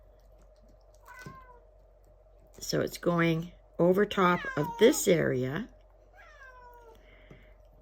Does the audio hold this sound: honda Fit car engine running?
no